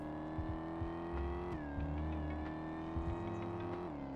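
A car in the Vehicle Legends video game accelerates hard down a straight drag strip, its engine revving up and shifting through gears in a loud, continuous synthetic whine with no talking.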